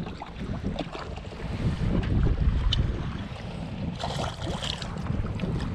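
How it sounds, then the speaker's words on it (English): Wind-whipped waves on Lake Lawtonka slap against a small bass-fishing boat, a continuous low wash and thump half buried under heavy wind buffeting the microphone. "big waves. That's where you gotta be careful, not tip."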